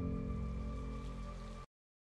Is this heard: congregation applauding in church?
no